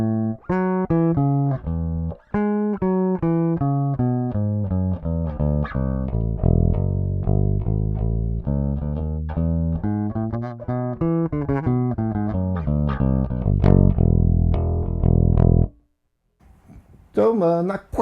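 Peavey T45 electric guitar played with the out-of-phase pickup setting, a thin, hollow tone: strummed chords and picked notes ring steadily and close for about fifteen seconds, then stop before a brief faint tail.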